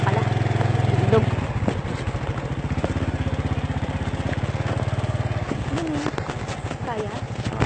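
Motorcycle engine laboring steadily as it climbs a slope under a heavy load, a close, throbbing mid-pitched drone that runs throughout with brief shifts in tone near the end, under people talking.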